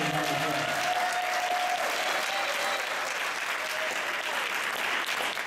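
A crowd at a motivational speaking evening breaks into sustained applause, dense steady clapping from many hands that fills the room evenly from start to finish, with a thin tone hovering briefly underneath early on.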